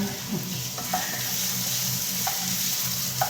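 Ginger frying in hot oil with steady loud sizzling and occasional spits and pops of splattering oil, close and continuous with no talking.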